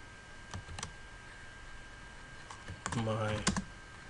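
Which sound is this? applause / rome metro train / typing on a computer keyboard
typing on a computer keyboard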